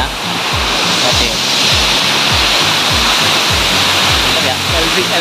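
Waterfall at Curug Lembah Pelangi in Bogor, West Java, a loud, steady roar of rushing water that fills the scene.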